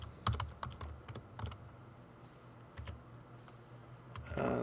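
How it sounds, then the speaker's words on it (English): A password is typed on a computer keyboard during router setup, a quiet run of irregular key clicks with a couple of louder taps and a heavier clack at the end. "I'm going to put in a password for him."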